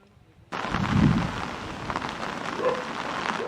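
Heavy, near-constant rain in Baguio City pours down as a loud, steady wash of drops on surfaces that starts abruptly and continues throughout.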